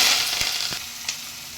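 Fenugreek seeds, garlic, green chilies and curry leaves sizzle in hot oil in a pan, a steady close fry with a few sharp pops and crackles.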